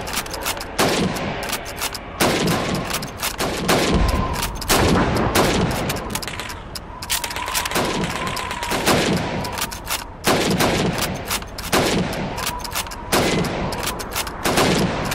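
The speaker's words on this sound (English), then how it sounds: "You have 15 seconds to shoot the helmets." Rifle shots crack steadily in a Call of Duty 2 training exercise where helmets serve as targets, each loud report quickly followed by a bolt or reload clack in a fast, regular rhythm across the whole stretch.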